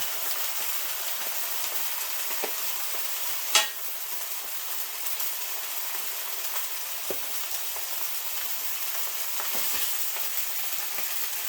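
Pork chops searing in oil in a pan give off a steady, close frying sizzle with a brief sharp clink early on. No one talks.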